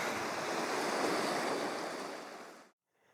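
Waves rolling onto the shore at secluded Frangias Beach on Mykonos, a loud continuous wash of surf with wind over the mic that cuts off abruptly near the end.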